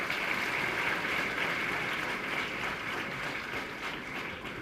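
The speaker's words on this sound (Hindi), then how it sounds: "आपके लिए ज़ोरदार तालियां" An audience at the Utsav 2014 festival at Dev Sanskriti Vishwavidyalaya, Haridwar, applauds the participants in a soft, steady wash of clapping that fades slightly toward the end.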